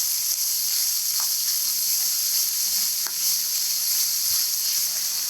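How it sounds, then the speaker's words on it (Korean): Onion, carrot, leek and minced garlic stir-fry in oil in a pan, a steady close sizzle and hiss with a few faint clicks of stirring, no voices. "색깔이 나면 양파, 당근, 대파, 다진 마늘 넣고 달달 볶아주세요"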